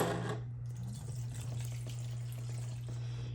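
Liquid cleaner sloshing and splashing into a small vat, steady and close, over a constant low hum.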